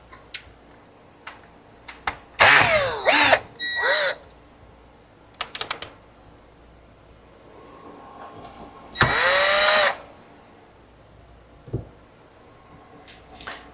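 A power screwdriver removes screws from a Pioneer SX-980 receiver in three short whirring bursts, each rising and falling in pitch, with light clicks and taps in between, close and fairly loud.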